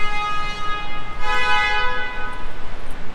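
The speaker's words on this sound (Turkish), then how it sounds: "Niye korna çalıp duruyorlar?" Car horns honk in a parking lot, a loud, steady, tonal blare held for about three seconds with a slight swell in the middle.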